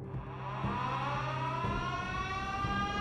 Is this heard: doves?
no